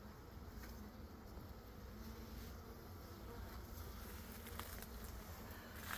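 Honeybees in a hive after a light puff of smoke, giving a steady, dense buzzing hum that stays even and fairly close throughout, with no talking.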